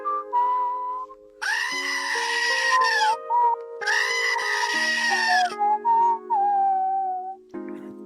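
A goat bleats twice in long, loud, wavering cries close by, set against sustained whistle-like musical tones that continue between and after the bleats.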